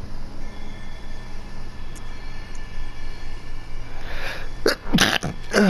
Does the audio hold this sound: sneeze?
yes